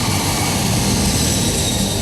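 Heavy military transport aircraft such as a C-130J Hercules or C-17 Globemaster over the Lucknow-Agra Expressway airstrip, a loud continuous engine roar with broadband rush, steady and close throughout.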